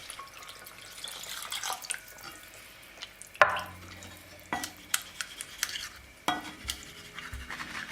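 Water or broth is poured into a pot of well-cooked onions for onion soup, with wet sloshing, a few sharp clinks of a utensil against the pot and light drips, close and fairly quiet.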